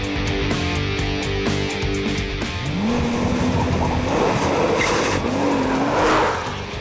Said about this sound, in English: driving a Porsche.